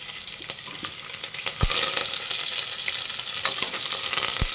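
Oil sizzles steadily in a pan as dal is cooked, with a continuous bright frying hiss, sharper pops and spatters at moments, and a few louder clinks from stirring.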